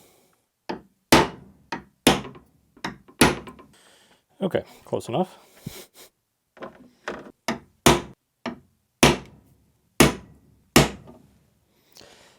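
Sharp metallic hammer strikes drive a punch into a backcountry ski during an alpine touring binding install, ringing out one after another in an uneven rhythm, with a short spoken remark partway through.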